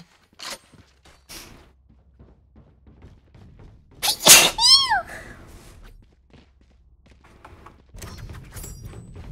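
A single sharp sneeze bursts out, loud and close, followed by a brief squeaky chirping sound, with scattered quieter noises before and after.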